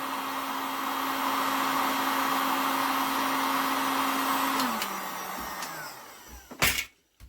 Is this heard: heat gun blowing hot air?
yes